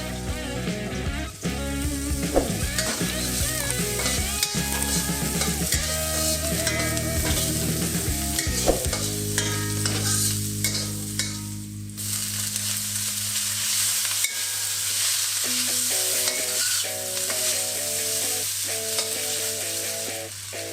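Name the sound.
green onion and garlic sizzling in hot oil for pad thai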